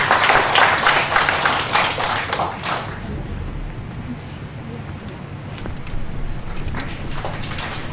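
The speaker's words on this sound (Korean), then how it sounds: "우리 박수로 이승희 권사님 맞이하겠습니다." A Korean church congregation applauds during a Sunday service. A burst of many hands clapping fills the first few seconds, then fades into quiet room sound.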